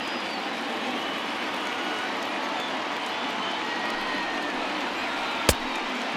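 Broad, steady roar of a stadium crowd on its feet in the MLB The Show 20 baseball video game, holding at an even level throughout with one sharp click near the end.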